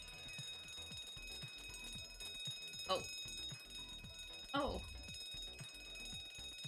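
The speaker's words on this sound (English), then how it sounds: "Why is there an alarm blaring?" A video game alarm blares continuously with steady ringing tones beneath voices speaking, and two louder sweeping bursts cut through partway along.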